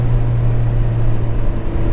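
A turbo Honda GSR engine holds a loud, steady droning roar near the rev limiter, heard close and continuous throughout.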